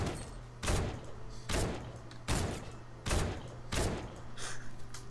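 Gunfire in Fortnite Battle Royale during a Playground update match: five heavy, evenly spaced shots, each a loud, close thump with a short decay, and faint speech in the gaps.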